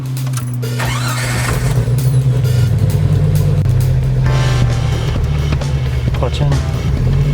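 A manual transmission car driven by a learner: a steady engine hum that rises and shifts in pitch as it pulls away, with people talking inside the cabin.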